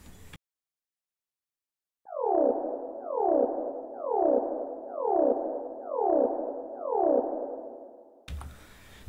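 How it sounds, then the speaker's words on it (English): A spaced-out, alien-sounding wavetable synth lead made in Reason, drenched in reverb, plays six repeated swooping notes in a steady rhythm, loud and alone after a brief silence. "we have achieved a type of alien type wavetable sound, more spaced out lead"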